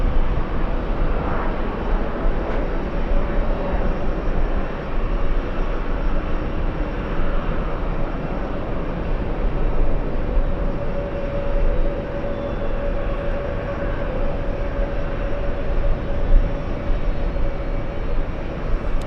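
A KLM airliner passes at JFK airport, a sustained rumbling jet roar with a faint whining tone running through it, steady and fairly loud.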